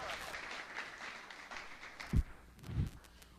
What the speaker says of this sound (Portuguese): Pode aplaudir ao Senhor, por favor, em nome de Jesus.